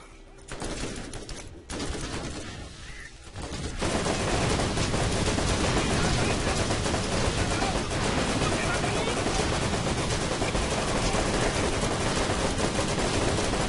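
Rifle gunfire in Borderlands, a few scattered shots early on, then a continuous, dense burst of rapid automatic fire that stays loud and steady to the end, with talk over the opening.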